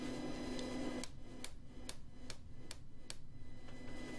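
A hammer strikes a round punch driven into hot forged steel, part of a skull forged from a three-quarter-inch square bar. About eight sharp, evenly spaced blows ring out, fairly faint, after a brief stretch of steady background noise.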